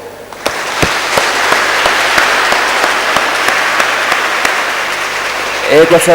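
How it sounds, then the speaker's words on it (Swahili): A church congregation applauds continuously during a Mass homily, with dense clapping, a few louder claps standing out, and a voice briefly speaking near the end. "basi hata tufanye kelele za makofi jamani"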